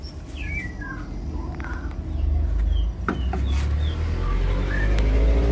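Bright whistled calls and chirps of a white-rumped shama ring out over a steady low rumble of traffic, several phrases repeating at moderate distance.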